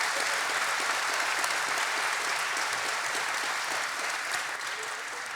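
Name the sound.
audience applause for the servers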